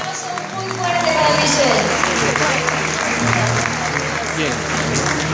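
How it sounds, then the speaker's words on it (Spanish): A large audience at the MBN Ecuador 2014 awards bursts into sustained applause, dense clapping swelling after a spoken introduction and continuing under a voice over the hall. "aplauso muy fuerte para"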